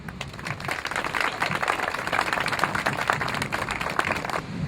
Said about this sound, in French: je vous demande d'applaudir ces trois groupes